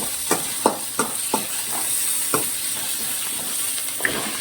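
Sliced okra sizzles in a hot pan with curry leaves while a spoon scrapes and stirs it in several sharp, close strokes over a steady frying hiss.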